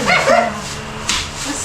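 A dog barks in a quick pair of close, loud yips at the start, then gives a softer short bark about a second later.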